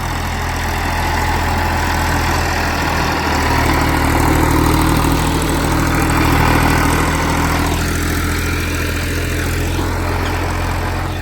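A tractor engine idles loudly close by for the whole stretch, a steady low rumbling drone with slight swells in volume and no voices, on a farm field sown with wheat.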